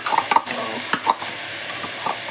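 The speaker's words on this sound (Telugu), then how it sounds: "ఆల్రెడీ మనం ఫ్రై చేసి పెంచుకున్న పెసరపప్పుని ఇందులో యాడ్ చేసేద్దాం" Fried moong dal is stirred into an amaranth leaf fry in a pan, giving scraping spoon strokes and soft clinks over a quiet sizzle, fairly close and without speech.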